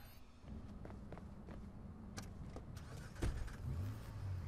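A car in the video game Watch Dogs, with a steady low engine hum and rumble running throughout and a few short clicks and thumps layered over it.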